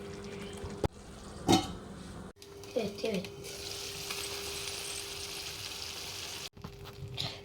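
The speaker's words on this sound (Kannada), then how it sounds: "ಇದನ್ನು ಸಣ್ಣ ಉರಿಯಲ್ಲಿ ಒಂದು 10 ನಿಮಿಷ ಕುದಿಸ್ಕೊಂಡ್ರೆ ಕ್ಯಾಪ್ಸಿಕಮ್ ಪನ್ನೀರ್ ಗ್ರೇವಿ" Capsicum paneer gravy simmers on a low flame, making a soft, continuous sizzle and bubble with a few brief stirring or clanking sounds. A voice is briefly heard over it.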